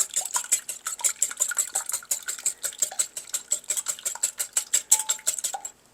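A whisk beats eggs and melted butter in a bowl for sheet pan pancake batter, making a fast, even run of close, crisp clinks against the bowl that continues steadily throughout.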